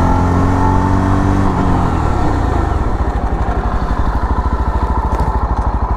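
A Yezdi Roadster motorcycle brakes hard from about 60 km/h: the engine's steady drone drops as it slows, then settles into a loud, rapid, pulsing thump close by.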